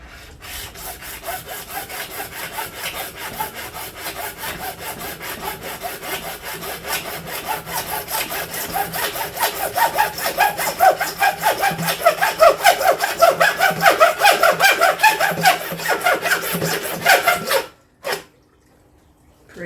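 A hacksaw cuts with steady back-and-forth strokes while building a garden tower, close and loud, the rasping rhythm growing stronger before stopping abruptly near the end.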